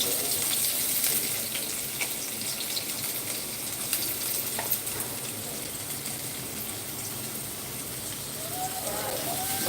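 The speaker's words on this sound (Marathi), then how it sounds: "आता आपण कांदा टाकूया" Chopped onion added to a pan of reddish fried garlic sizzles and crackles steadily in hot oil, a continuous hiss with occasional pops, close up while someone talks briefly.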